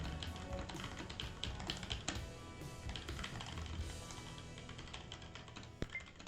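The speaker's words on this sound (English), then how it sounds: "You have loud keys" Rapid clacking of loud Logitech Pop Keys mechanical keyboard keys, a dense continuous run of sharp taps with a few heavier strikes, close and clear.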